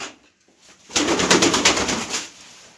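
A sudden burst of fluttering wings as pigeons take off close by, rapid flapping for about a second before fading.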